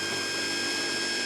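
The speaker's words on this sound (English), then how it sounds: "There I go, through both walls." A power drill runs steadily as it bores through the walls of an extruded aluminum channel during a van build, with a loud continuous whine and no pauses.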